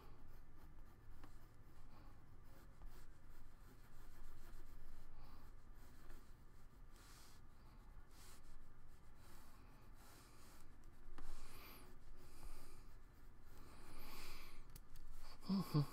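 Pencil sketching detailed layouts on paper, a soft continuous scratching and rubbing of graphite that runs steadily throughout, close up and fairly quiet, with no one talking.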